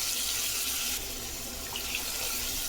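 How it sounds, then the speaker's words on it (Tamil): Tamarind water poured into a pot of garlic kara kuzhambu, a steady liquid splash and gurgle running continuously throughout at moderate level, with no voices. "இப்போ வந்து இந்த புளி தண்ணி வந்து குழம்பு மிளகாய் தோடு சேர்த்து வச்சுருக்கோம்ல, அதை அப்படியே போட்டுக்கலாம்."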